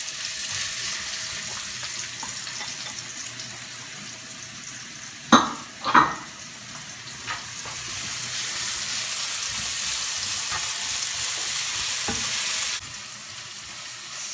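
Chopped onion frying in cooking oil, a continuous bright sizzle close up, interrupted by two sharp clanks of a utensil against the pan partway through.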